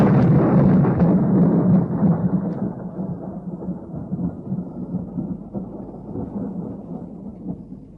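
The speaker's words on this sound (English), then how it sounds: "There's going to be a storm." Thunder from an approaching storm in a radio drama sound effect: a loud, deep rolling crack at the start that fades into a long, low rumble, with no speech.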